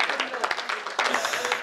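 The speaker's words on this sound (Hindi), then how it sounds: "यहाँ ताली बजती दादा।" Audience applause at a Hindi comedy poetry gathering (hasya kavi sammelan): a short burst of crowd clapping, fairly close and steady, with a voice speaking over it.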